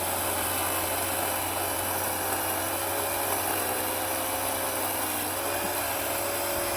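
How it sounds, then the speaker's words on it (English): An electric chainsaw runs with a steady, loud, continuous whine while cutting branches from overgrown peach trees outdoors, holding an even drone throughout. "These electric chainsaws will get the job done."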